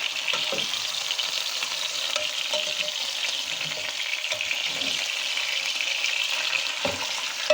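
Onions, garlic and meat fry in oil for a traditional peach tagine, giving a steady, close, broadband sizzle that holds from start to finish with light stirring clatter and no voices.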